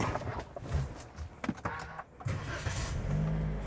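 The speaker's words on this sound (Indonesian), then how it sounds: "Kita nyalain dulu aja ya mesinnya ya." A 2018 Toyota Yaris TRD Sportivo with automatic transmission is started from inside the cabin: a short whirr and click, then the engine catches and settles into a low, steady idle heard close up.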